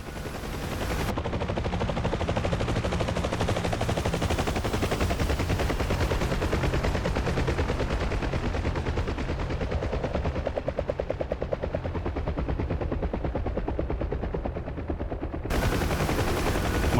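Door gunners on a Huey helicopter in the DCS World game fire machine guns in long rapid bursts, a dense rattling stream over the constant thudding rotor drone.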